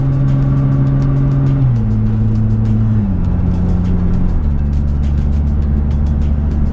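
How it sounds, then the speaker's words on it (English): A Nissan GT-R's engine note drops in clear steps as its dual-clutch gearbox is shifted by paddle from third up to sixth, a loud, close drone settling lower with each change. "I'm in 3rd gear and I'm going to manually shift to 6th gear."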